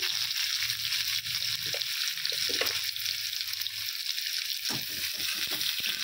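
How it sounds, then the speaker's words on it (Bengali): Potato and pointed gourd fry in a wok with a continuous hissing sizzle, while occasional knocks and scrapes of stirring rise now and then over the steady frying. "ভালো করে ভেজে নিচ্ছি"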